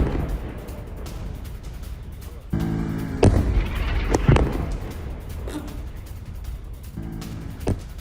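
Explosions from Israeli strikes on a residential area of Tyre, Lebanon: several heavy booms and sharp blasts over a rumbling background, some distant and some closer, with a low tonal drone in between.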